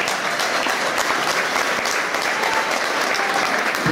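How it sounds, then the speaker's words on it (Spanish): Sustained, loud applause from an audience at a tribute to maestro Fruko in San Martín, Meta, dense and steady clapping throughout with no break. "yo quiero que le demos un aplauso todos al maestro Fruco"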